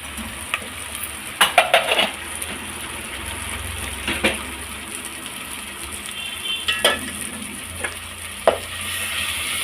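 Tomato and turmeric stirred in a pan with a soft background sizzle, broken by a few sharp scrapes and clinks of a utensil against the metal at irregular moments.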